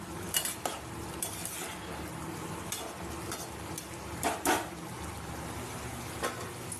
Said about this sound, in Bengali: বেগুনের মধ্যে মশলাটা দিয়ে কষানো শুরু করে দিয়েছি